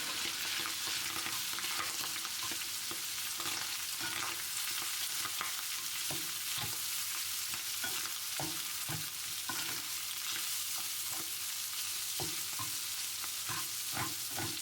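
Food sizzles steadily in a frying pan while a utensil stirs it, giving repeated scraping clicks over the constant fry. No one talks.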